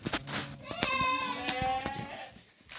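Sheep and goats for sale in a pen in Dois Riachos, Alagoas, give several loud, close, wavering bleats in quick succession, with a little background voice activity.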